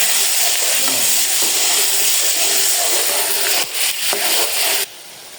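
Mutton frying with onions in a karahi gives a loud, continuous close sizzle with occasional stirring scrapes, dropping abruptly to a quieter hiss near the end.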